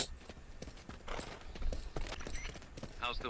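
Hooves of an old horse, over twenty years old, clip-clopping at a walk in the video game Metal Gear Solid Peace Walker, a steady rhythm of close, distinct strikes over faint background sound.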